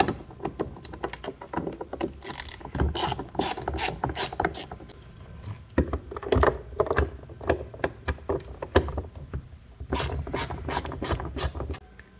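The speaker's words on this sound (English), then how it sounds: "I'm just using a 1/4 inch drive with a little extension just to reach down in the valley. So remove the 2 screws." Quarter-inch drive ratchet on an extension turning Torx screws out of a BMW door handle area, rapid bursts of close, crisp clicking in uneven runs, with short pauses between.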